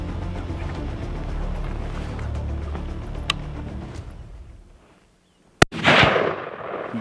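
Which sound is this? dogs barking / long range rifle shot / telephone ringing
long range rifle shot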